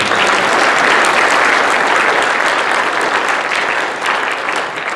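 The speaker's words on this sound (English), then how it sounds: "could we give a good round of applause for Brian for moderating?" Loud, full applause from a forum audience, thick and sustained for several seconds before easing slightly near the end, with no talking on top.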